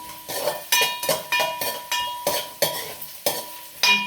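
A spatula stirring frying ingredients in a pan for Telangana bagara rice, with rhythmic scraping strokes roughly every half second over a light sizzle, close and without talk.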